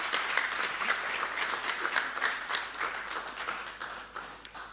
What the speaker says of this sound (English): I think this needs an applause